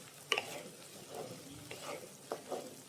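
Tomato masala being stirred in a hot pan, the tomatoes softened and skins loosening, with a few sharp scraping strokes over a soft sizzle, close and alone.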